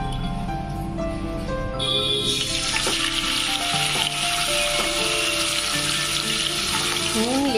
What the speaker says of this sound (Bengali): পেঁয়াজটা ভেজে তুলে নেওয়ার পর এই তেলের মধ্যেই আমি দিয়ে দিচ্ছি এখন চিকেনটা